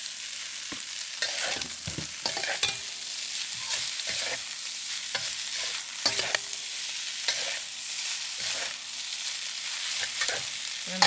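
Crab, rice noodles and egg stir-fried in a hot pan, a steady close sizzle broken by repeated scraping stirs at an uneven rhythm, no talk.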